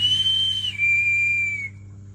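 A person whistles toward monkeys in a mangrove to imitate a harpy eagle, giving a clear, high, drawn-out note that steps down in pitch and fades out over a low background hum.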